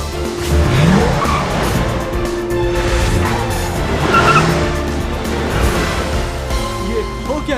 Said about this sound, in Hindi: ये गाड़ी खुद ब खुद कैसे पार्क हो गई